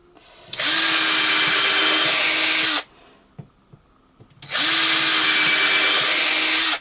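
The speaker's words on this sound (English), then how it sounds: "my drill is dying" Two long bursts from a power drill with a dying battery, each a loud steady whine, separated by a short pause with faint clicks and handling sounds, while making a blending hackle for fiber.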